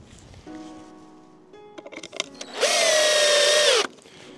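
A power drill drives a screw into wooden formwork on a house building site, a short whirring burst near and loud after a few light knocks and handling sounds.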